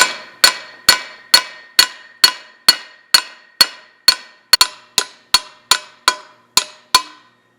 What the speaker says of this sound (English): We'll take a brass hammer here and hit on the bearing